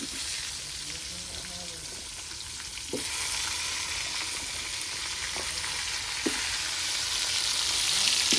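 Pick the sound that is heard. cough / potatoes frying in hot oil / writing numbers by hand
potatoes frying in hot oil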